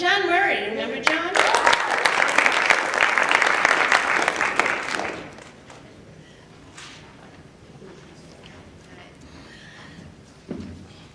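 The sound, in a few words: audience applauding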